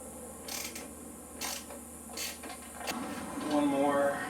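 Ratchet turning a T45 Torx screw on plastic bodywork beside the rear shock of a KTM motorcycle, several short bursts of clicking separated by pauses, close up, over a low background hum.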